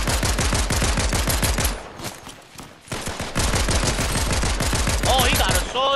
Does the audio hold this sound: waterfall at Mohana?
no